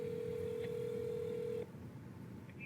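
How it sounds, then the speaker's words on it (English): A single steady phone tone on a recorded call, held for about a second and a half before it cuts off and leaves faint line hiss, with no talk. "We're recording this phone call"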